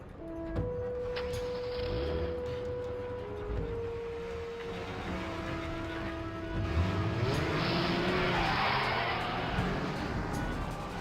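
LEGO cars racing in the LEGO Racers video game intro, with engine whines sliding in pitch, a skid and rising motor noise layered over game music.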